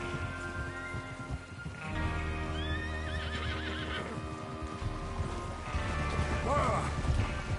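Horses neigh and whinny repeatedly over a steady clatter of hooves in the video game Red Dead Redemption 2, with a rumbling background and some voices mixed in.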